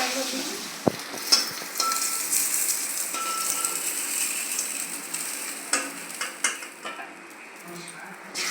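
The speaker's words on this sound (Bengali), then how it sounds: "স্নান সেরে চলে এলাম মাছ আর ডিমটা ভাজতে।" Fish and egg fry in a hot pan with a steady, close sizzle, broken by occasional clinks and scrapes of a utensil against the pan.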